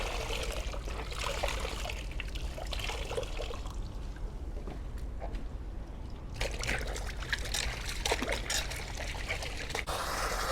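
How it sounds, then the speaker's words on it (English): Running water rinses a motorcycle helmet, a continuous splashing trickle that thins briefly midway and then returns fuller, at moderate close range with no talking. "So we are done rinsing."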